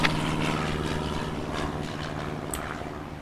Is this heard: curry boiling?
no